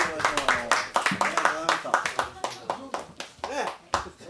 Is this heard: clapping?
yes